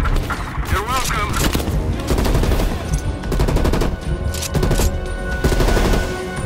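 Vehicle-mounted guns fire in dense, sustained bursts during a Call of Duty Cold War battle, loud rapid gunfire layered with booms and chaotic combat noise, with voices mixed in.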